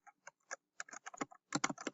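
Typing on a computer keyboard, a quick run of close, crisp key clicks in an uneven rhythm that speeds into a denser burst near the end, with no voices.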